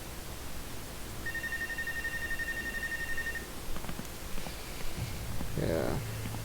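Telephone ringing in the video game Life is Strange: True Colors: a steady electronic ring tone sounds for a couple of seconds over a hissy background, followed by rustling and a short speech-like passage.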